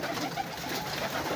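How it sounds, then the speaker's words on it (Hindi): Pigeons, around a hundred mixed Teddy, Royal Teddy and other breeds, coo softly in a loft setup. A dense, low murmuring chorus holds steady throughout, with no talk. "ये तकरीबन ना 100 के लगभग कबूतर होंगे"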